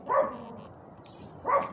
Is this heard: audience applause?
no